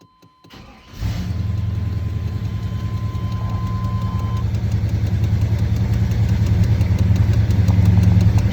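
A swapped car engine cranks and catches about a second in, then settles into a loud, steady, throaty idle held high by the electric choke, building slightly in volume with no talk over it.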